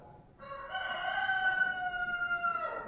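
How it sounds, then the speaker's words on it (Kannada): A rooster crowing once nearby, a long, loud, strained cry that rises and holds for about two seconds before trailing off, with no other sound over it. "ಕೋಳಿ ಸಹಿತ ಧ್ವನಿ ಕೊಡ್ಸಾಕಂತೈತಿ"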